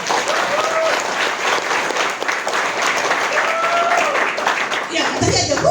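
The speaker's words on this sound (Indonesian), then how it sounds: "Tepuk tangan dulu." Audience applause at a faculty welcome event for new university students, steady dense clapping filling the room with voices mixed in, then tapering off as it ends.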